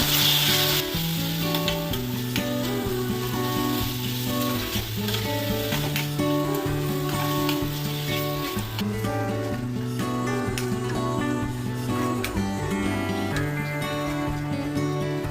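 Ginger-garlic paste, Malvani masala and turmeric sizzle loudly in a hot pan while being mixed, a steady crackling fry under continuous background music, no voices.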